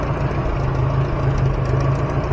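A freshly tuned engine idles steadily, a loud, close, low rumble with an even pulsing rhythm and no talk over it.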